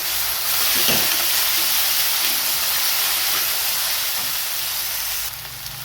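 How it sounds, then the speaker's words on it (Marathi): Oil spluttering and sizzling steadily in a pan while shevga (drumstick) masala spices fry, a dense close hiss that continues without a break, with no talking. "या मसाल्याला आपलं छान असं तेल फुटत आहे"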